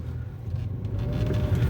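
A Toyota Hyryder base model car driving at night just after a U-turn, its low engine and road rumble steady and close, building slightly toward the end.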